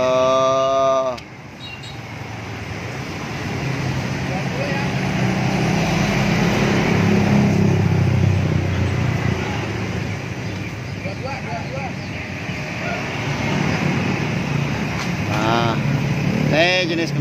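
A Yamaha X-Max scooter with its original exhaust revs up, a loud sustained engine drone that rises and swells over several seconds and then holds, with someone talking over it at times.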